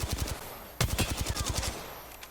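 Rapid automatic gunfire from the shooter game Apex Legends crackles in two quick bursts of sharp, evenly spaced shots, moderately loud with no talk.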